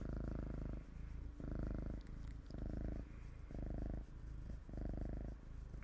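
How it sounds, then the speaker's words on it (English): A house cat purring up close, a soft low rumble pulsing in steady breaths, about five inhale-exhale cycles alone without voices. "Kitties is purring."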